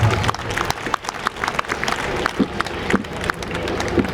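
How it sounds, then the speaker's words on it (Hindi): Audience applause for performers at a high school annual sports day in Ranchi, dense clapping with distinct sharp claps standing out, close and lively, sustained throughout. "कलाकारों के लिए एक बार जोरदार तालियां।"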